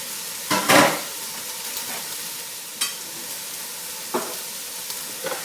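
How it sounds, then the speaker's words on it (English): Unsalted butter melts and sizzles in a pan for a roux, a steady close crackling hiss broken by a few soft stirring scrapes and brief louder spits. "I've got 1/3 of a cup of unsalted butter here. And I'm just going to let that melt down"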